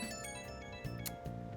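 Phone ringtone in the video game Persona 5 Royal, a steady electronic melodic tone sounding alone, with a brief louder burst near the end and no talk over it.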